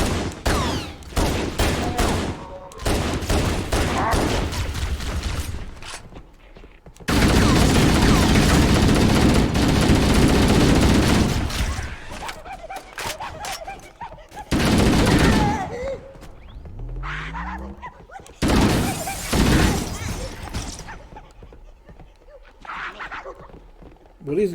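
Handgun fire in Halo, with repeated loud shots and dense bursts of gunfire across a chaotic battle, alongside other combat noises and occasional alien voices.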